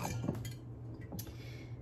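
A kombucha scoby is set into a glass bowl, giving a few soft wet squishes and light glassy clinks and taps, close up and fairly quiet.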